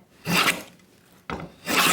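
A hand tool shaving a taper along an octagonal wooden table leg, two rasping strokes with a pause between, close and loud with no talk.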